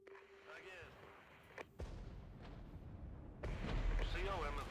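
Artillery barrages in a realistic real-time strategy game: deep rumbling booms roll in and swell louder toward the end, while short radio-style voices talk over them.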